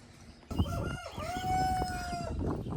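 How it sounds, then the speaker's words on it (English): A rooster crows nearby, one drawn-out cock-a-doodle-doo rising and holding over a low background rumble. "Good morning, Rooster."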